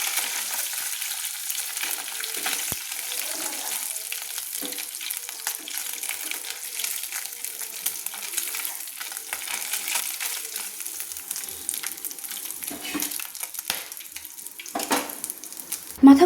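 Fish heads frying in hot oil in a home kitchen, a soft steady sizzle with occasional scrapes and clinks as a spatula lifts the pieces out, fairly quiet and continuous.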